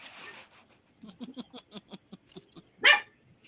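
A person mimics a dog with a quick run of short, yappy bark-like yelps, ending in one louder, higher yelp; a human imitation, close and clear.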